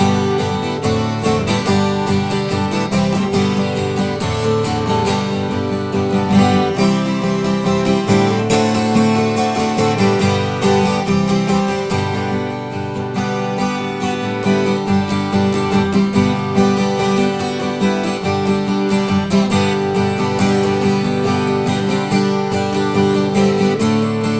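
Strummed twelve-string guitar chords of Joy to the World ring out continuously in a full, steady accompaniment, bright and sustained throughout with no voices.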